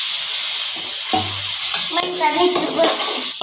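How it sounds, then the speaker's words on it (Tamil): Water goes into a pan of tiny-fish curry, setting off a steady close sizzle and frying hiss with some stirring, while a person speaks over it. "கொஞ்சம் தண்ணி சேர்த்துக்கலாம்."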